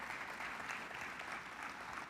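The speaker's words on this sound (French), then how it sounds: "une bonne main d'applaudissements pour nos experts" Audience applause at an annual partners' meeting on Quebec's bio-food policy, a steady wash of clapping heard faint and distant throughout.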